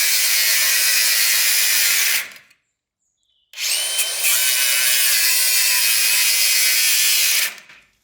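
Angle grinder cutting rusty metal while stripping down an ESARCO 8x8 amphibious vehicle, a loud harsh whine that stops for about a second and then resumes until near the end, close up with no talk.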